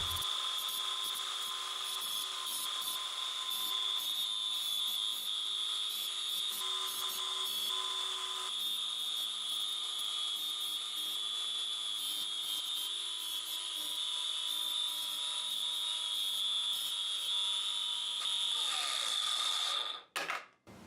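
A high-pitched whining battery power tool grinds steadily for a long stretch, its tone slowly dropping as the battery winds down, then abruptly cuts out.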